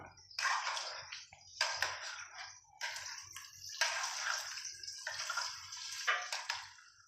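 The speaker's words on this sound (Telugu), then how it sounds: "కొద్దిగా నీళ్ళు పోసిన" Water is poured into a pot of chicken, onion and carrot curry in several splashing bursts, with short gaps between pours and no talk.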